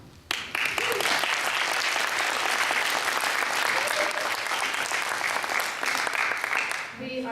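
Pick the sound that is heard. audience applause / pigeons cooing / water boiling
audience applause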